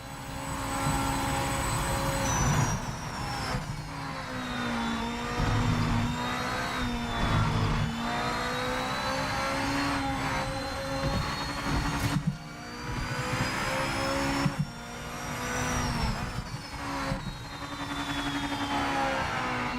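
A video game car engine drones steadily at mid pitch, holding a continuous hum with slow rises and dips as it revs and shifts, fairly close and without talk over it.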